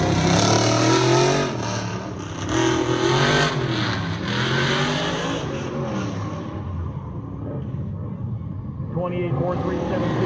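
A white Summit Racing Corvette hot rod at the 2023 Goodguys show in Columbus, Ohio revs its engine loudly and continuously, with the roar swelling and easing under an announcer's talk throughout.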